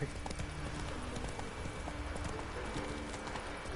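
Geralt's horse Roach in the game Witcher 3 trots with steady, rhythmic hoof clip-clops at close range, a continuous gait throughout, with no speech.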